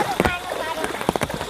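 Heavy rain pours down in a steady, dense hiss of drops striking surfaces, with a voice faintly murmuring underneath.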